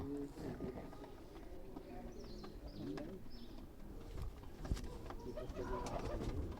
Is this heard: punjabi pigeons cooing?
yes